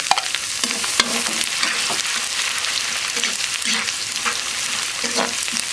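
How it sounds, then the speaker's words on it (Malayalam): Chopped ginger and garlic sizzle in hot oil for Schezwan cauliflower, a constant loud crackling fry broken by regular scraping strokes of a spoon stirring the pan. "എണ്ണ നന്നായി ചൂടായിട്ടുണ്ട് ഇനി നമ്മൾ ഇഞ്ചി രണ്ട് ടീസ്പൂൺ ഇഞ്ചി രണ്ട് ടീസ്പൂൺ വെളുത്തുള്ളി"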